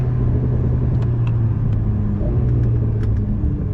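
A Legend GT race car's engine drones steadily at high speed on a circuit, heard from inside the cabin, a constant loud rumble with a few faint clicks and rattles.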